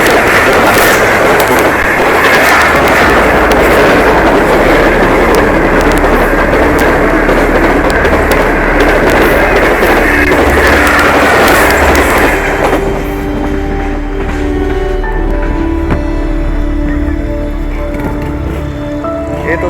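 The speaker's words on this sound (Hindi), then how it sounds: "ये आ गई रेलगाड़ी।" A train passing a railway crossing near Liaquat Pur in Punjab, Pakistan, loud and close, a continuous roar with rhythmic clickety-clack of wheels on rails, easing off into a quieter rumble and ringing tones near the end.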